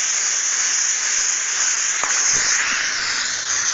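Garment steamer blasting out steam while smoothing a shirt, a loud continuous close-up hiss with a few faint knocks underneath, no speech.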